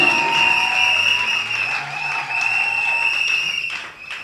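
A church congregation applauds and cheers at an ordination service of a pastor and an evangelist, a dense, loud wash of clapping that runs continuously and thins slightly toward the end.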